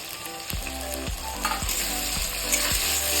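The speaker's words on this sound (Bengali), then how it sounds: "টমেটোটাকে আমি কিছুক্ষণ ভেজে নেব" Chopped tomato and onion fry in oil for a chanda fish curry with taro stolons: a constant close sizzle broken by regular spatula scrapes about every half second.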